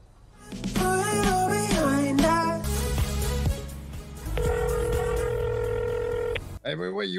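A phone ringing in the video game GTA, a loud repeating electronic ring tone over music and voices, with a clear steady beeping section near the end.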